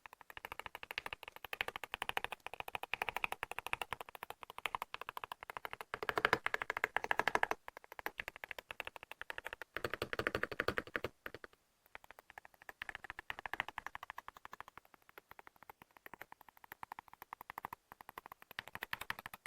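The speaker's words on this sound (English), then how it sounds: "Let's listen briefly to the typing sound." Rapid, light typing on a magnetic-switch keyboard with crisp clicky keystrokes in quick bursts, close and clear, with a short pause midway.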